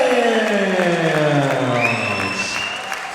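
A boxing crowd cheers and applauds the winner at an East End fight night, loud and close, with whoops and shouts over a falling tone as the noise continues.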